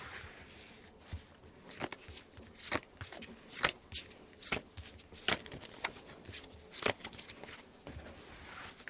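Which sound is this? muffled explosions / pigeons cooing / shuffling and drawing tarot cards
shuffling and drawing tarot cards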